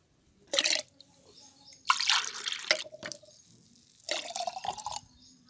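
Water poured into a bowl of buttermilk for leftover-rice plant fertilizer, arriving in three short splashing bursts with quiet pauses between them, close and fairly soft.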